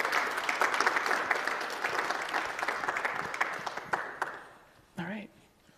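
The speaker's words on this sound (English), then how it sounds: "may we have a round of applause for Jason's excellent" Applause from a conference audience after a technical talk, a steady, fairly distant patter of many hands that fades out, with a brief voice near the end.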